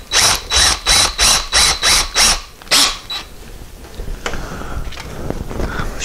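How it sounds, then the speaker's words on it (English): A drill fitted with a quarter-inch bit runs in a series of short, evenly spaced bursts, close and loud, then falls to quieter handling noises during work on a VW Cabriolet shift linkage. "we'll get ready to drill those out"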